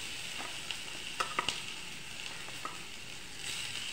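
Potatoes frying in a pan with onion and ginger give off a steady sizzle, with a few light scraping taps of a spoon as the mix is stirred.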